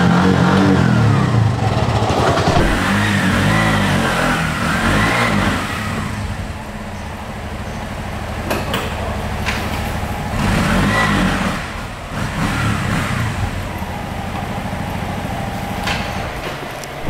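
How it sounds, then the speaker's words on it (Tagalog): An almost brand new repossessed Bajaj RE three-wheeler revs loudly nearby, rising and falling in repeated bursts before settling toward a lower idle with a few more blips, with no talk. "So ito yung tunog ng makina"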